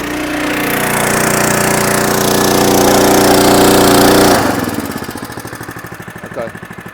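A feed pump motor on a beekeeping feed tanker, running loud and steady, then dropping to a slower, pulsing idle.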